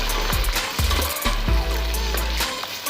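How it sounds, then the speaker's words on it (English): Tinned tomatoes fry in hot oil in a pot for Nigerian jollof rice, giving a loud, close sizzle with crackling bursts and a few knocks from stirring. No one speaks. "As you can see, I'm frying my tin tomatoes."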